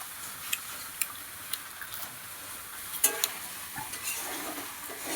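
Chicken being stir-fried (kosha) in a pan with green chillies, a steady sizzle broken by sharp ladle scrapes and clinks against the metal, close and alone.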